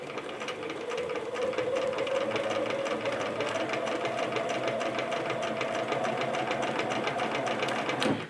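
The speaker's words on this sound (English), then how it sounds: "I'm going to put my sewing machine needle right where my line is that I've drawn and start stitching." A sewing machine stitches a scalloped table topper, its needle chattering in a fast, even mechanical rhythm with a steady motor hum, close and continuous from start to finish.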